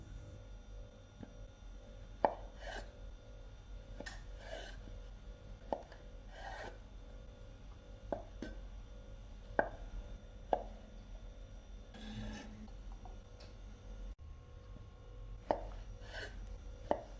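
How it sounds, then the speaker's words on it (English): A knife strikes a board in irregular, fairly quiet chops while 500 grams of tempeh are cut into matchsticks, the strokes spaced about a second or two apart over a faint steady background. "cut 500 grams of tempe into matchsticks"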